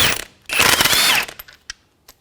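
An impact wrench with a 22mm socket spins off a wheel lug nut on a 2008 Acura MDX in one loud, rattling burst of under a second, followed by a few faint metallic clicks with no talk.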